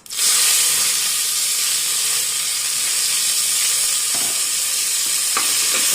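Onion, green chili and tomato hit hot oil with fennel and cinnamon for mutton bone soup, bursting into a loud, steady, close hiss that holds throughout, with a few light stirring clicks near the end.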